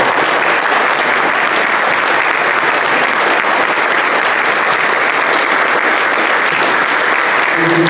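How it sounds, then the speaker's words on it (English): Loud, sustained applause fills a candidate night gathering, a dense and continuous roar of many hands clapping close by with no break for the full length. "Could we please give a round of applause to all the people?"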